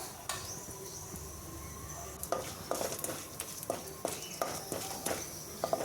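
Garlic frying in a pan for spicy garlic chutney powder, a steady soft sizzle with scattered clinks and stirring scrapes of a utensil against the pan, close and moderately loud.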